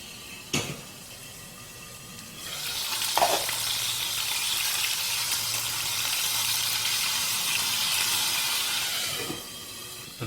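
Stuffed steak browns in a hot covered pan, starting as a quieter sizzle, then swelling into a loud, steady fry with a couple of clanks as it is turned, and easing down at the end.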